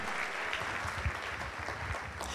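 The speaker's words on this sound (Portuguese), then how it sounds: "Aplauda o Senhor bem forte" Congregation applauding in a church, a steady wash of clapping from many hands that holds an even level throughout with no voices over it.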